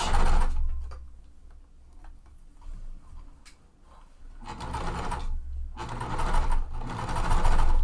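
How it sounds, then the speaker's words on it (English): A sewing machine slowly stitches a quilt section together with a quarter-inch seam, its needle ticking in close, fairly loud runs that ease off and pick up again. "I'm at my machine and I'm sewing this section together"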